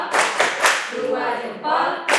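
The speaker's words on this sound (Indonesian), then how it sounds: "Tepuk salut." A group of teachers in a school session doing a rhythmic salute clap, a few sharp close claps with voices chanting between them.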